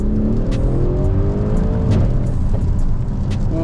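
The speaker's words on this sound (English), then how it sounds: "did you hear it bang then?" A 500 bhp Mercedes GLC 63 S driving in the rain roars as it accelerates, with its engine note climbing and a few sharp exhaust bangs cracking over it, heard close from inside the car.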